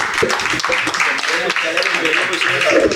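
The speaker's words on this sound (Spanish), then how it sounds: "Un fuerte aplauso para este 11." An audience gives loud, sustained applause for a boat crew, with dense, close clapping and cheering voices and talk mixed in throughout.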